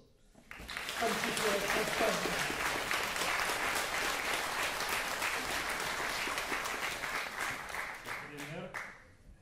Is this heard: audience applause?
yes